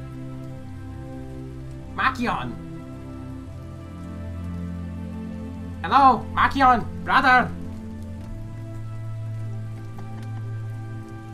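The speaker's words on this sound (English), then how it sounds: "Don't stand under the rain like that!" Rain falling in an animated scene, a steady patter under a voice calling out a short greeting once and then again a few seconds later.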